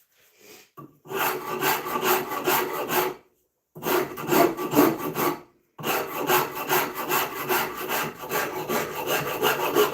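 A Shinto rasp works wood in three long bursts of rapid back-and-forth rasping strokes, close and loud, separated by short silent pauses.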